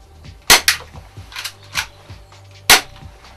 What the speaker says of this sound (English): then you can fire, then set the gun again